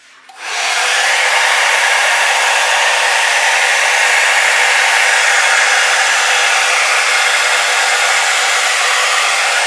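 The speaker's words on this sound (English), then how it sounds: "cross your fingers that this new blow dryer works" A new blow dryer, used during an acrylic pour painting session, switches on and runs with a steady, loud, broadband whoosh that holds unbroken for the rest of the stretch.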